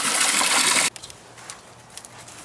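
Loud broadband rush of a garden hose pouring water into a trash can, cutting off abruptly after under a second, followed by faint scattered drips and trickles.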